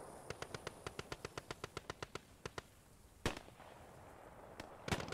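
Gunfire in a video game mission: a rapid, evenly spaced string of some twenty shots, then a pause and two louder, heavier single blasts, with no talk over them.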